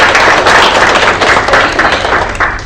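An audience claps for Student Academic Services staff at a summer program event, loud and close, the dense clapping tapering slightly toward the end.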